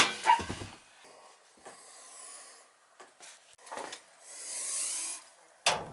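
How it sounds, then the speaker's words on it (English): A small dog barks and yips indoors in a house during a gas furnace replacement, several sharp close barks spread irregularly with quieter whimpers between them and no talk over them. "The little dog's in there."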